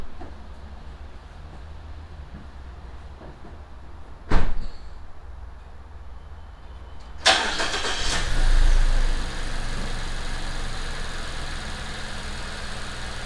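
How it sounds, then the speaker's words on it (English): A Mazda car, revived with a jump start from a second car alongside, clunks as its door shuts, then the engine cranks and catches into a steady idle, with no talking. "I'm gonna jump into the Mazda to start the car."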